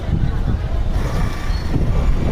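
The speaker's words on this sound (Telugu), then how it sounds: "ఇప్పుడు వస్తున్న bus express Raichur to Hyderabad" An express bus on the Raichur to Hyderabad route rolls into the Mahabubnagar bus stand, its heavy engine giving a dense, continuous low rumble that stays loud and close throughout.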